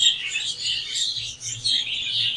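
Exhibition budgerigars in molt chirp and chatter continuously close by, a busy overlapping twitter of many small birds with no talk.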